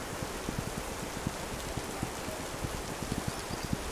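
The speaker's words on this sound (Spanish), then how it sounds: "la lluvia es ensordecedora" Heavy rain pours steadily in the Wild West survival game This Land Is My Land, a dense constant hiss scattered with sharp droplet patters and taps, with no talk over it.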